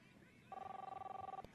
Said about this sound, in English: Don't hear the phone ringing off the hook?